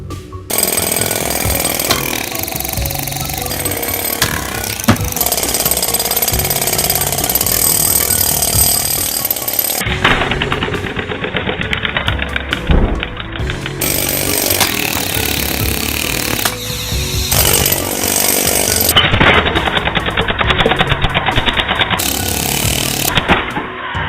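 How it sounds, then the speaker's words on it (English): A pneumatic air hammer running at 90 psi rattles loudly and continuously, its rapid mechanical pounding dominating throughout with brief shifts in tone. "it seems like the 90 psi from the air hammer added some extra kick."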